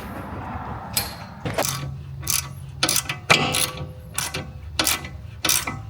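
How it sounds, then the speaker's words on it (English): A wrench works loose an 18 mm nut on a BMW X5M spring during a Dinan lowering spring install, giving a series of quiet, sharp metallic ratcheting clicks in irregular bursts, close by. "hold this stationary and use a wrench to release the 18"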